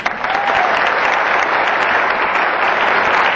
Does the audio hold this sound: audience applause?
yes